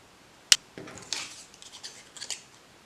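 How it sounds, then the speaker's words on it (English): A hole punch snaps through the sleeves of a shadow puppet with one sharp, close click, followed by softer crinkling and rustling of the thin material being handled. "first I've got my hole punch, and I already have basically a hole in this area of the body, so I'm just going to punch holes in the sleeves"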